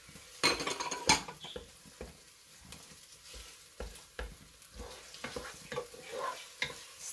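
Meat mince sautéing in a pan sizzles softly while a utensil repeatedly scrapes and clinks against the metal in an irregular stirring rhythm, close and fairly quiet.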